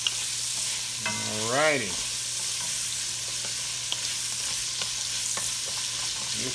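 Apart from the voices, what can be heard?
carrots and celery cooking in a pot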